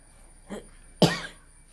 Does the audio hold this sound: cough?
yes